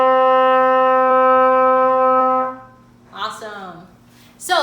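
A trumpet holds a steady, clear D for about two and a half seconds, fingered with valves 1 and 3 and the third-valve slide kicked out. It cuts off cleanly and a person starts talking.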